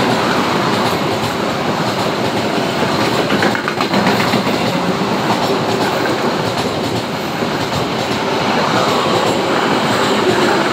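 A long KA Kertajaya passenger train of sixteen cars, hauled by CC206 diesel locomotive CC206-1317, rolls past close by at a station with steady loud rumbling and clickety-clack of wheels over rail joints throughout, no talking.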